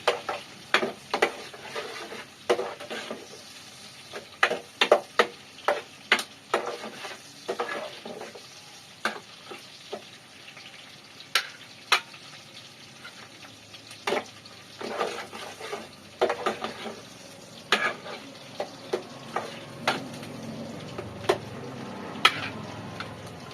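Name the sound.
onions frying in a pan for chicken curry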